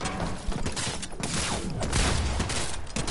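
Rapid video game gunshots, a loud close burst of fire with clicking mechanical sounds, steady and busy throughout a short exchange.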